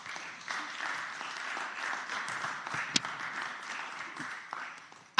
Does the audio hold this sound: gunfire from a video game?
no